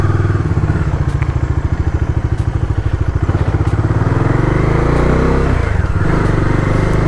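A heavy motorcycle engine runs up close with a loud, continuous, low thumping beat that stays steady throughout.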